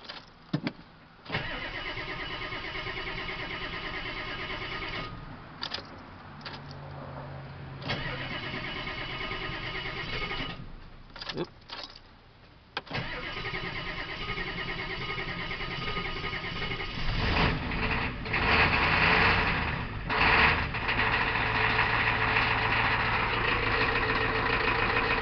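A 1993 Ford IDI non-turbo diesel turning over on a cold start, cranking in bursts before catching, then settling into a loud, steady, clattering idle that roughens and rises toward the end.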